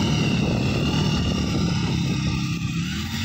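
A tractor engine runs steadily and loudly, towing a rotavator behind while a motorbike is pulled along; the dense, continuous rumble with a rough low throb fills the whole stretch without pauses or speech.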